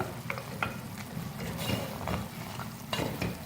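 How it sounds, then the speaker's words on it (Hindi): Mutton fries in oil over a medium flame with onions already added, a soft steady sizzle broken by several scraping stirs of a spoon against the pot. "अब मीडियम फ्लेम पर हम भूनेंगे गोश्त को"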